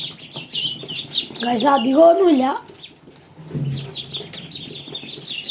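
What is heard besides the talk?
ducklings peeping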